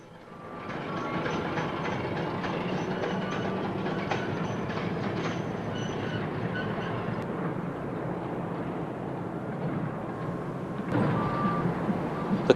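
An EWS class 08 shunting locomotive works at Oncloyne open cast coal mine in South Wales, a steady rumbling engine and rolling wagon noise heard at moderate distance, with a few faint beeps and clanks.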